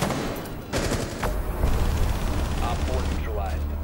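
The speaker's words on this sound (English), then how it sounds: "Way too many bullets." Rapid bursts of gunfire in the Rainbow Six video game crackle over a dense, rumbling mix, with a voice speaking partway through.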